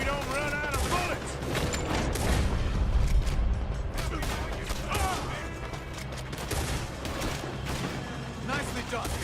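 Gunfire during a shootout in Red Dead Redemption 2, dense overlapping shots and clatter running throughout, mixed under frequent shouted speech.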